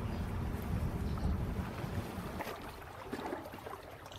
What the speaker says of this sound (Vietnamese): Có thể một chút nữa thì chiếc ghe lưới này sẽ bắt đầu tiếp tục ra khơi.